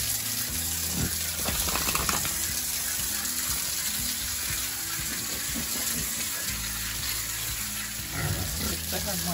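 Water is thrown and splashed in a pig sty to bathe the pigs, a loud continuous gushing and spattering that lasts throughout, with faint voices in the background.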